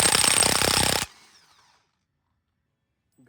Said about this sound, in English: 36mm socket and the impact with the wheel lock here